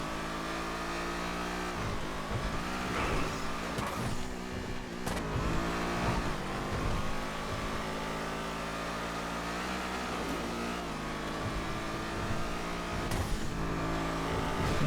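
Majima GT race car in GTA FiveM roars continuously close by, engine note rising and falling through gear changes and corners with steady revving throughout, no talking.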